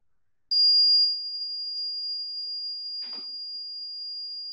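A security system burglar alarm triggered in zone 4 sounds as a steady, loud, continuous electronic tone that starts abruptly and holds unbroken, with a brief rustle or click partway through and no talking.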